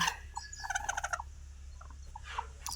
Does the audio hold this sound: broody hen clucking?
yes